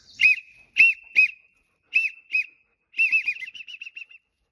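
A Leaning Tree waterfowl whistle imitates a widgeon, giving sharp high whistled notes in short bursts, a few single calls followed by a quick rolling run of chirps, close and clear against silence.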